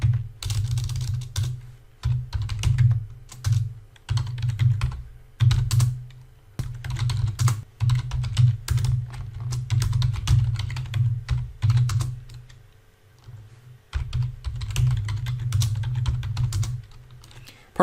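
Rapid keystrokes on a computer keyboard as shell commands are typed in a Linux terminal, loud and close, in dense bursts broken by short pauses, with no voices.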